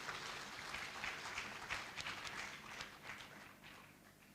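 Sustained crowd applause at a 30th anniversary celebration event for SWAGAA, a dense, steady wash of clapping with a few louder bursts, continuing without speech for several seconds.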